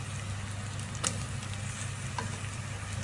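Onions frying with salt in a pan for chicken majboos: a soft, steady sizzle with a couple of faint stirring clicks, close and continuous with no talking.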